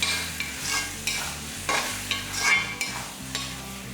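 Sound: stirring brinjal kotsu in pan on stove, oil separating

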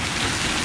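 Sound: heavy rain and hail storm

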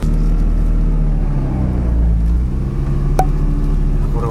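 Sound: car engine while driving

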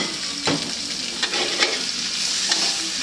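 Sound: stir-frying vegetables for spring roll filling

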